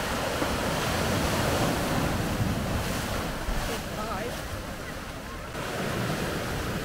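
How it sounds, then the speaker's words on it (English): Ocean surf breaking on rocks along the shore at Las Palmas, Gran Canaria, a steady loud wash of waves with heavy wind buffeting the microphone throughout, no voice on top. "So we can hear me over the waves"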